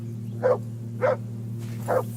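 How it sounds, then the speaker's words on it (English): A dog in Kingdom Come Deliverance 2 barks three times at roughly even intervals, loud and fairly close, over a steady low background drone from the game. "Call that dog, Henry. Who the hell can listen to that?"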